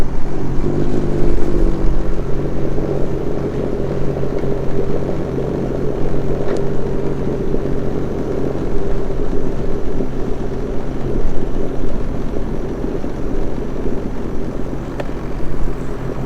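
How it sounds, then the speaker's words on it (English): A Sea-Doo personal watercraft idles at a launch area, its engine a steady low drone holding close and loud throughout with no voices. "give ourselves a little push off, and then we get to start the engine and head out"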